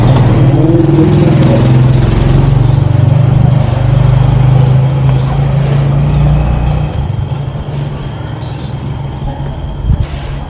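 Steady engine drone of a motorcycle taxi riding through city traffic, loud and continuous with a low rumble that eases slightly toward the end, with a brief bump near the close.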